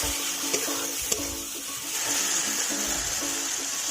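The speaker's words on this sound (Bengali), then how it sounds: "দিয়ে দেবো জল।" Water being poured into a pot of Bengali golda chingri (giant river prawn) curry with fried potatoes, a steady broadband rush with faint clinks, close and alone.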